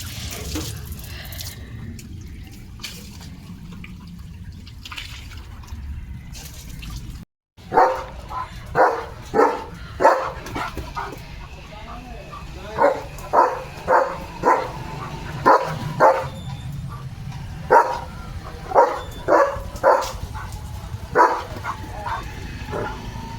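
Water splashes and sprays from a hose with rhythmic bursts while a German Shepherd holding the pipe in its mouth barks and pants nearby, playful and moderately loud.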